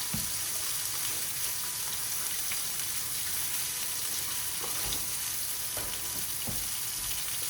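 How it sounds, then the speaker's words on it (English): Water runs steadily from a kitchen sink tap as hands are washed, a continuous close rushing stream with a few faint knocks and clinks. "I'm going to wash my hands."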